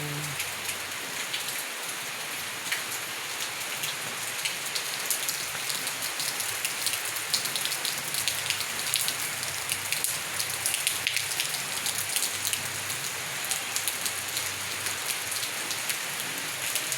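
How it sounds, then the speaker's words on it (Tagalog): Steady rain falls on the ground and concrete on a cold, wet morning, a dense continuous hiss of drops alone with no voices, even and moderately loud throughout. "Ayan, mga kayo, umuulan."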